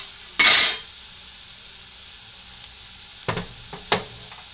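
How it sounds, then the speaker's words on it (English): Cauliflower and chopped onion fry in a pan, a burst of sizzle at first fading to a faint hiss, followed by a few scraping clinks of a utensil against the pan, close and without speech. "I put it in the pan and fry it up for a little bit"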